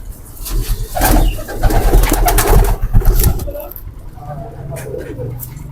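Sialkot pigeons kept as paired birds coo in bursts close by, loud and uneven, with cars faintly in the background.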